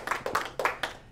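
Brief burst of hand clapping from a small team at an office meeting, a handful of uneven claps over about a second, moderately close and not very loud.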